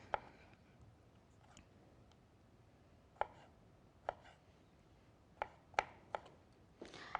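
A knife chops on a cutting board in sparse, irregular strikes, quiet and close, with pauses between the cuts.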